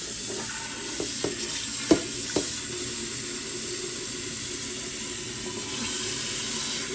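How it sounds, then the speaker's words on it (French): Water running into a cooking pot, a pressure cooker being filled, a steady close hissing stream with a few light knocks against the pot early on. "Et maintenant, il met de l'eau bien."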